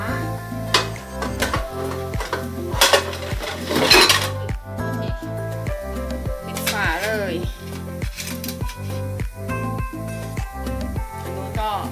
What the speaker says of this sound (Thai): ปิดฝา